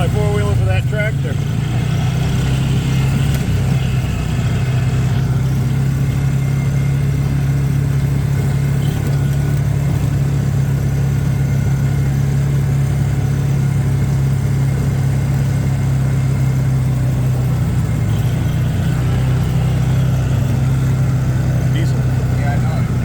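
A diesel tractor engine runs steadily throughout with a loud, low droning hum, while people talk over it.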